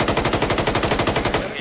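Loud, close automatic gunfire in a video game, a rapid, evenly spaced burst of about twenty shots in a steady rhythm that stops abruptly at the end.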